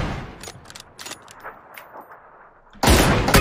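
Suppressed VSS rifle shots in a video game, a few sharp muffled cracks spaced through the clip, then a much louder sustained burst of gunfire near the end.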